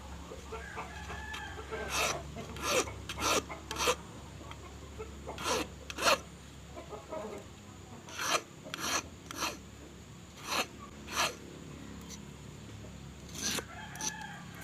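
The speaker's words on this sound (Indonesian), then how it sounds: "saat menajamkan bagian ujung mata kailnya ya, seperti ini" A small file rasps against the point of a fishing hook in a series of short, scraping strokes, some grouped in quick pairs, close up over a quiet background with occasional distant rooster sounds.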